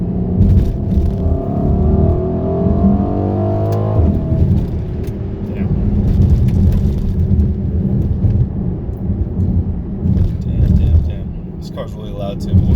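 A 2020 Mercedes GLC 63s AMG Coupe's engine rumbles loudly as it accelerates in third gear, a deep rising drone that breaks off and then resumes as a heavy, throbbing roar, with talk over it.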